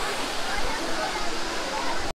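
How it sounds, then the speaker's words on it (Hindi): Dudhsagar waterfall in Goa roaring steadily as a continuous broadband rush of falling water, close and loud, cutting off abruptly at the end. "जस्ट मेरे पीछे है वाटरफॉल"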